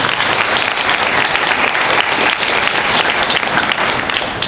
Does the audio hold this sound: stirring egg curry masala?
no